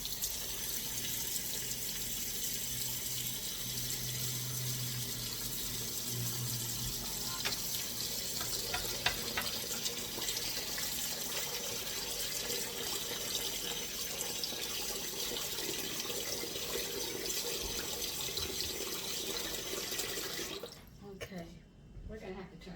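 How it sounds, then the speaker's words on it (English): Cold water runs steadily from a kitchen tap over freshly cooked hot pasta shells in a sink for spinach stuffed shells, a continuous broadband rush that cuts off abruptly near the end, with voices talking faintly over it. "Just want cold water on them."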